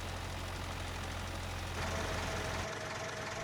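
Tractor engine in Farming Simulator 25, hauling a spreader: a low, steady idling rumble with faint knocking, quiet and alone.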